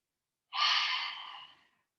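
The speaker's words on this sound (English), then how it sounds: "Keep breathing." A single long exhale during a floor exercise of alternating knee-to-chest and leg extensions: a close, breathy rush of air that starts abruptly and tapers off over about a second, with no talking.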